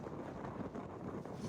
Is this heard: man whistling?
no